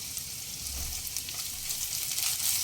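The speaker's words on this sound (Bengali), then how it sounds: "ভাজা ভাজা হতে দেব পেঁয়াজের কালার একটু চেঞ্জ হয়ে এলেই দিয়ে দেব তিনটে কোচানো কাঁচা লঙ্কা আর এক স্পুন আদা বাটা" Onion with green chilies and ginger paste frying in a pan, a steady close hiss of sizzling oil running throughout with no pauses or voices.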